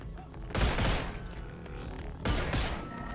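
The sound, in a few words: two guns firing in the video game Boneworks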